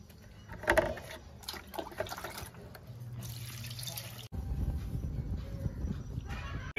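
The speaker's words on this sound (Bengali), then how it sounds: "আমি শাকটা আরো দুবার ধুয়ে নেব।" Fresh spinach greens are rinsed by hand in water in a home kitchen, with close sloshing, dripping and handling knocks, then a steadier pouring rush in the later part.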